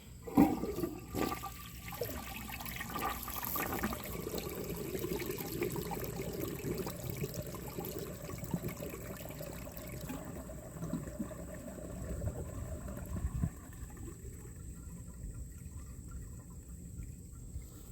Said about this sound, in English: Now we're going to see how it flushes.